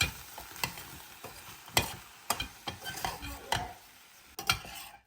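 Vegetable fried rice is stirred and fried in a pan, with a soft sizzle under repeated sharp scrapes and clacks of a utensil against the metal in an irregular rhythm, close and without talk.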